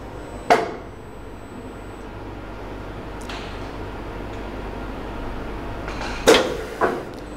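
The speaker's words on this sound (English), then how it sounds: "Clamp the part from the top and side, as well as from the front of the frame." An ADP 2590 fully automatic door and frame press clamps a part from the top, side and front with sharp pneumatic thuds, one early and two close together near the end, over a steady low machine hum.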